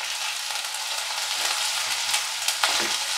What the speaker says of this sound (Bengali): এই সব দিয়ে একটু সাঁতলিয়ে নেব